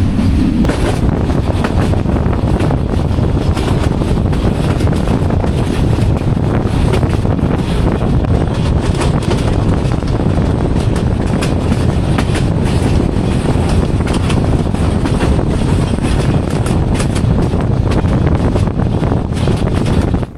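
The Jayantika Express passes Latu Station on the Kulaura–Shahbazpur line, a loud, steady rumble of rail cars running continuously throughout with faint clickety-clack and wind buffeting the microphone at close range.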